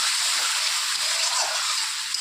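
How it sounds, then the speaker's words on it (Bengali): A little water splashes into spice paste frying for a boal fish curry. The result is a short, bright hiss and gush that holds steady and close, with no talking. "দিয়ে দেবো সামান্য পরিমাণ একটু জল কষানোর জন্য।"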